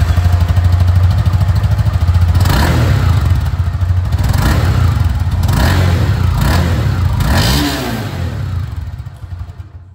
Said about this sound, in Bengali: এবার আপনাদেরকে আমি এখানে CB300F যে এক্সস্ট সাউন্ড ওটাও আপনাদের শুনিয়ে দিই।